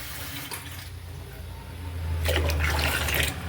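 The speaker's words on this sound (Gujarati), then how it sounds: "હજી એક લોટો નાખી જ દો." A pot of water is poured into a cooking pot of Kathiyawadi mixed-vegetable varaliyu, a soft trickle that swells into a fuller, louder gushing pour in the last second and a half.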